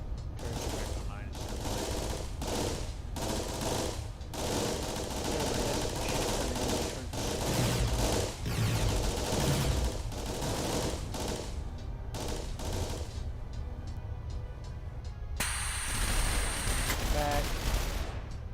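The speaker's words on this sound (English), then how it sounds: "Turrets are back online." Turrets in a video game fire loud, rapid bursts of gunfire, nearly continuous volleys that fill the whole stretch, and a voice speaks at times over the shooting.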